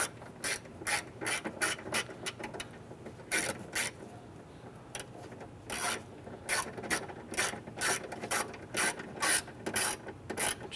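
A hand ratchet tightens screws on a power window motor in a 1995–2001 Ford Explorer, making quick bursts of close, crisp clicking in irregular runs separated by short pauses.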